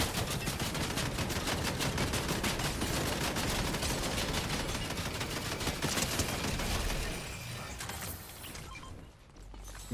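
Rapid automatic gunfire from a video game sprays through a window. The shots are loud, dense and continuous for about seven seconds, then break off into quieter rattling clicks.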